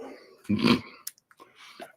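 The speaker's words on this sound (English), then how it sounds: "Why does the dog always want to mess around when you're trying to do something?" A dog lets out one short, close throaty growl in the middle of the clip, followed by faint snuffling and small scuffling sounds.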